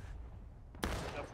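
A musket volley from the video game War of Rights, set at Pry Ford, erupts suddenly as a loud, ragged burst of many near-simultaneous shots after quiet battlefield ambience.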